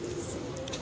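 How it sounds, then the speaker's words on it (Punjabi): Dubai teddy pigeons give a short, low, steady coo, close by and fairly quiet against faint background noise, with no voices. "ਅੱਜ ਅਸੀਂ ਦੁਬਈ ਵਾਲੇ ਟੈਡੀ ਕਬੂਤਰਾਂ ਦਾ ਸ਼ੌਕ ਕਰਵਾਉਣ ਲੱਗੇ ਹਾਂ"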